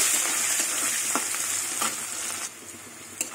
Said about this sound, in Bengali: কুচনো পেঁয়াজটা একটু লাল লাল করে ভেজে নেব।